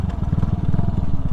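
A stock Vader 150 motorcycle burbles and pops through its exhaust right after the throttle is released, a short close rapid crackling run of pulses.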